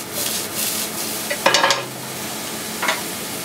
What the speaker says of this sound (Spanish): Seguimos salteando un poquito. Con muy poquito aceite de oliva.